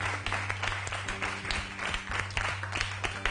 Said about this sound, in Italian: Un applauso alla nostra giuria!